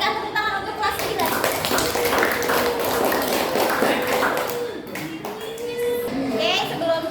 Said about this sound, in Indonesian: Berikan tepuk tangan untuk kelas